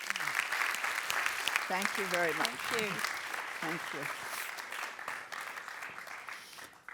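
Warm audience applause for a guest author at an immigration lecture in Amsterdam, a broad steady patter of clapping that carries through the whole stretch while a voice speaks over it.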